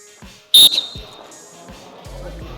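A coach blows a sharp, piercing whistle blast during sports drills, short and loud, amid a gym with basketballs bouncing rhythmically in the background.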